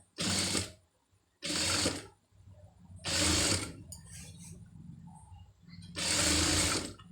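A sewing machine stitches thread piping in quick close bursts, four loud runs of rapid mechanical chatter separated by short pauses and faint handling sounds.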